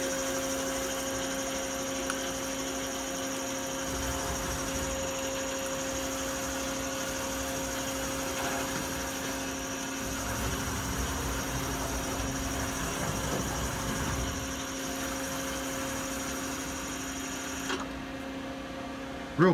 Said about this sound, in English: Showing you the live tooling now with the C-axis